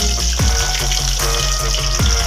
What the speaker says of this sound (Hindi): यहाँ पे हमने अपने सारे फ्राइज को ऑयल के अंदर डाल दिया है